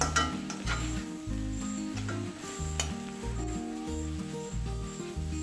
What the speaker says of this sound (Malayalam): ഇപ്പം ചേർത്തിരിക്കുന്ന പൊടികളെല്ലാം നന്നായിട്ട് മൂത്തിട്ടുണ്ട്